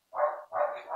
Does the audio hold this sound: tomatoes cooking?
no